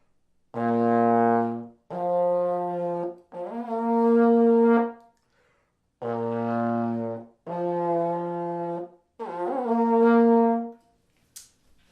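A brass instrument plays six sustained notes in two groups of three, each note clearly separated by gaps, sounding flat and disconnected.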